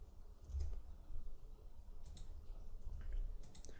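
Soft computer mouse clicks at a desk, a few faint, close taps scattered over quiet background noise.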